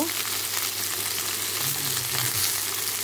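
Sliced okra sizzles and fries steadily in a hot pan with salt, a dense continuous crackle, close and loud, with no talk over it.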